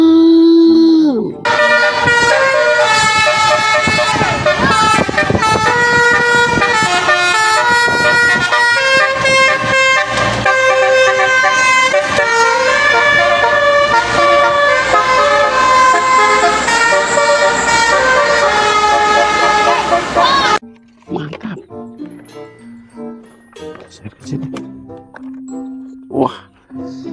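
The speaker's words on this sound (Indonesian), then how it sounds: "Wah, kali ini ada bus STJ Draka teman-teman." An STJ Draka bus sounds a loud musical horn, a long melodic multi-tone blast that ends abruptly, followed by quieter road noise and scattered tones as the bus moves on.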